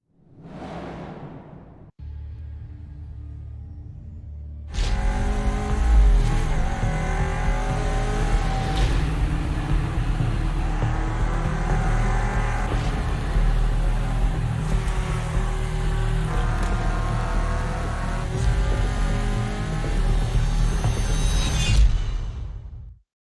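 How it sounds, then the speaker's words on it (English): Renault Clio Cup race cars at Snetterton in Project Cars 2 roar with a loud, close engine whine, rising and shifting through gears over a low rumble, after a brief quieter idle at the start. "We are racing the Renault Clio Cup cars."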